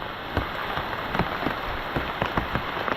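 A downpour drums at a rural homestead near big trees, a loud continuous wash of rain with sharper splatter hits punctuating it, and no one speaking.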